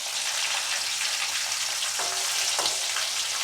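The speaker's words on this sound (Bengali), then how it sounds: "তেলে দিয়ে দিলাম, আঁচটা কমিয়ে দিলাম।" Thin paneer fingers fry in hot oil over lowered heat, a dense, steady sizzle at close range, with a couple of brief crackling bursts as pieces shift.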